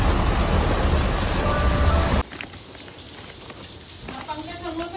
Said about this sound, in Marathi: मुसळधार पाऊस पडायला लागलाय.